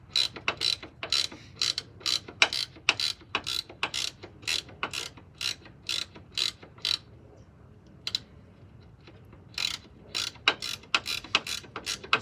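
A hand ratchet backs out a bolt during a coilover install on a Honda Accord, with quick bursts of close, sharp clicking strokes, a short pause partway, then more clicking.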